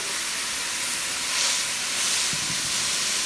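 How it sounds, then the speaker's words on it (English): Ground meat hitting a hot pot and starting to cook for stuffed shells, a loud, dense hissing sizzle that stays constant throughout, close up and uninterrupted by speech. "now I'm putting the meat in the pot because I'm going to start cooking down my meat"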